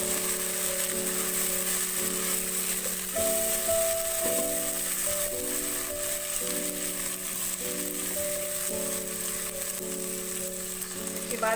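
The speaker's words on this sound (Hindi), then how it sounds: "आलू को एक मिनट फ्राई करेंगे।" Potatoes frying in a pan with spices while cooking tahari, a steady close sizzle and crackle throughout, with a tonal musical background running underneath.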